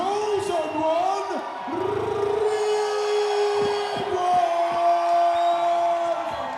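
A boxing crowd cheers and whoops for Singaporean fighter Muhamad Ridhwan at a ringside event, a loud sustained roar with shouts rising and falling while an announcer speaks over it.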